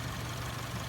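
A 2023 Subaru Legacy Sport's 2.4-liter turbocharged boxer four-cylinder idles with a steady low hum, short and even, with no voices.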